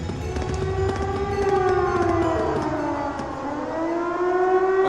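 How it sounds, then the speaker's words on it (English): A civil-defense-style siren wails from a fort in a video game, its rising and falling harmonic tones sweeping steadily and loudly through the whole stretch with no voices over it. "Sounds like a siren. Seems coming from the fort."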